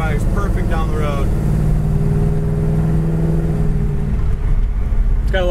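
A red 1969 Chevelle SS engine accelerates on the road, a loud close rumbling drone that rises in pitch while someone talks over it.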